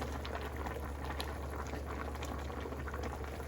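Sinigang soup boils in a small pot with a continuous, quiet bubbling and rolling simmer, steady throughout without any voices.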